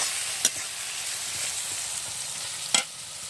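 Fish being stirred in hot oil in a pan for a katla fish curry with eggplant: a constant hissing sizzle broken by two sharp utensil scrapes.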